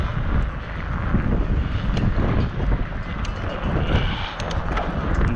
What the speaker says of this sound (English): I think that might just be the wind